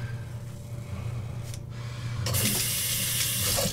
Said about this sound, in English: And I run it under hot water as well, so the whole shaver's hot.